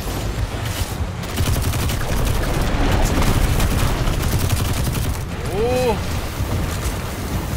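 Gunfire in the video game Destiny 2, a dense steady stream of crackling shots over rumbling background noise, with a brief rising whistle-like tone near the end.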